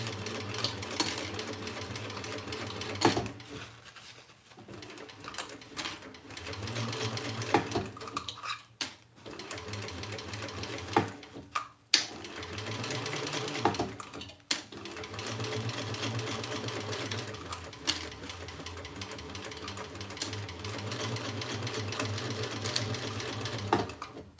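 A sewing machine stitches a long seam around a crossbody bag in steady whirring runs, pausing briefly between bursts with small mechanical clicks, close and alone without talk.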